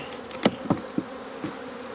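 Honey bees around a hive drone in a steady low buzz during spring hive box setup, with a few sharp close passes and knocks popping out briefly.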